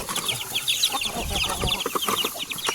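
Chickens cluck and peck while eating feed of rice bran mixed with husks and corn, a busy cluster of short clucks and pecking taps close by with faint talk in the background.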